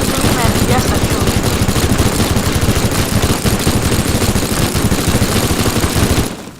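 Minigun in the video game Teardown firing a continuous rapid, loud burst of shots for about six seconds before cutting off.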